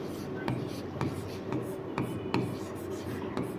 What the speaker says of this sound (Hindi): तो यहाँ पर लिखेंगे